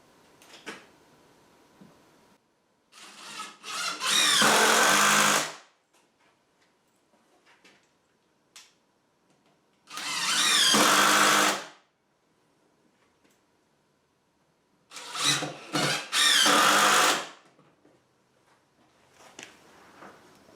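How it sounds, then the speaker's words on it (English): Screws driven through wood into a rabbit house base with a power drill, heard as three loud whirring bursts of a few seconds each, separated by quiet pauses with faint handling noise. "I'm going to grab some screws and pop this down through."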